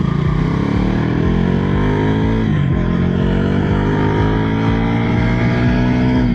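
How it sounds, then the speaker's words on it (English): Bajaj Dominar 400 motorcycle engine, loud and throaty, running continuously close by with revs rising, dipping briefly and climbing again. "But this one sounds very throaty, quite loud, and quite loud even at idle low running speeds."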